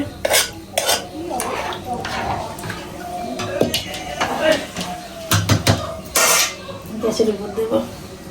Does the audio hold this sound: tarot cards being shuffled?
no